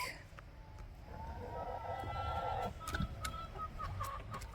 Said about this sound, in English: it's not uncommon that a hen can make that funny noise like that you're hearing now